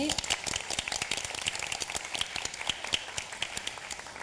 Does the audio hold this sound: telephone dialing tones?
no